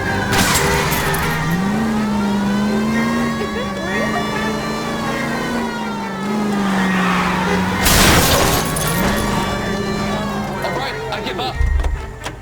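Car chase in the video game L.A. Noire: a revving engine whine that rises and falls under steady road noise, broken by a loud crash and crunch of impact midway and another thump near the end.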